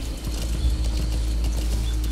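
Steady rhythmic clopping of horse hooves over a dense, loud low rumble, continuous throughout without speech, in the video game Metal Gear Solid V: The Phantom Pain.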